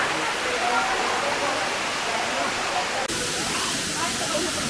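Lubcon Falls, a waterfall in Cortes, Surigao del Sur, roars as a steady, loud, broadband rush of falling water, close and continuous throughout.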